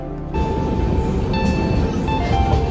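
A passenger train runs on the rails through the Konkan countryside, heard from inside as a loud, steady rumble and rattle of wheels with a faint tonal hum, continuous and close, with no talking.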